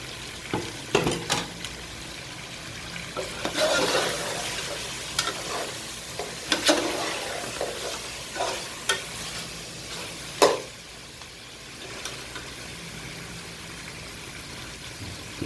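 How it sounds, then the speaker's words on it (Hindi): Mutton sizzles in a pot as it fries, with a steady crackling hiss broken by repeated scraping strokes of a spoon stirring the meat, close and fairly loud. "इसको भून लूँगी 5 से 7 मिनट। गोश्त को मैंने भून लिया।"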